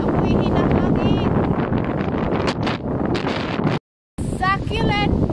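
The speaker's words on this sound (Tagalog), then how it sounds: "Maluluwas ang hangin. Ako'y hinahangin." Strong wind buffets the microphone in loud, continuous gusts at Club Mykonos in South Africa, with a voice speaking over the roar and a brief dropout near the end.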